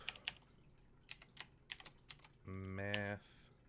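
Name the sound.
typing commands on a computer keyboard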